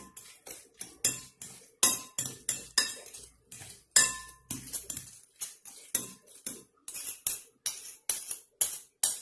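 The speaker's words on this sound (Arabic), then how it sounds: "كنحركوا هاد الخليط" Spoon clinking against a bowl while stirring a savory cornet filling mixture, a rapid run of sharp metallic taps in steady bursts, close and crisp, with no talking.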